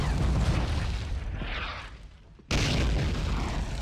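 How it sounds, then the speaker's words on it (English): Artillery fire in the video game Army Men of War, loud booming blasts with a rumbling, noisy decay, one fading out before another heavy explosion hits abruptly, dense and close. "Still providing a lot of artillery fire there."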